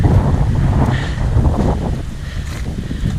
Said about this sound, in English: I can hear the wind